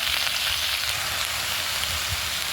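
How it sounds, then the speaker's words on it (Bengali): Leafy greens stirred and fried in a little oil in a pan give a steady, close crackling sizzle that runs without a break, with no voices. "প্রথমে অল্প তেল দিয়ে শাকটাকে ভালো করে নেড়ে নেব।"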